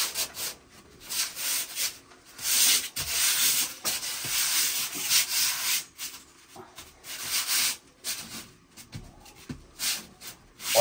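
A styrofoam board is pressed and rubbed into mortar on a wall, making repeated close scraping, rubbing sweeps in uneven bursts with short pauses, and no one speaking.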